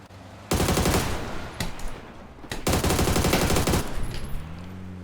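Automatic gunfire in PUBG aimed at a vehicle's tires: two long, loud, close bursts of rapid shots, separated by a short gap, with a few scattered single shots around them.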